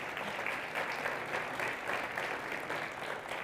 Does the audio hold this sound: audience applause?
yes